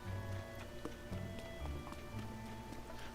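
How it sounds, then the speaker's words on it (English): Rain falls in the video game The Legend of Zelda: Tears of the Kingdom as a soft, faint patter of drops under quiet game tones and scattered clicks, with no talk. "It just started raining."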